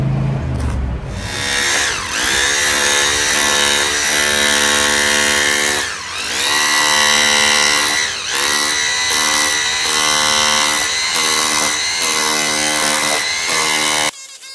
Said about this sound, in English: So we got to chisel those down so we have a flat surface, so we get a solid bond to the concrete like this.